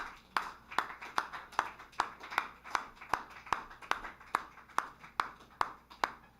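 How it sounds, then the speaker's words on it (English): A lone audience member at a poetry open mic claps steadily for a performer, about fifteen sharp, evenly spaced hand claps at a moderate pace, close and clear in a quiet room. "I'm here clapping for you, Mary."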